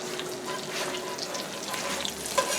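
Eggs frying in a pan for a Newfie steak breakfast, a steady close sizzle and crackle with a few small pops near the end.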